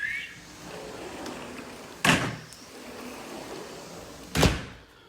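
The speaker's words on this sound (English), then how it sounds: "I now have a smooth running" Two sharp rumbling thuds a couple of seconds apart, like a repaired sliding door rolling smoothly and bumping at the end of its track, in a quiet room.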